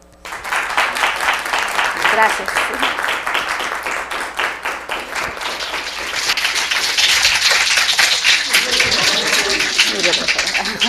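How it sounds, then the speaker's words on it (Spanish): Lecture audience at a talk on neonatal screening breaking into sustained applause that swells toward the end, with a brief spoken thank-you over the clapping. "agradecer la conferencia con un aplauso"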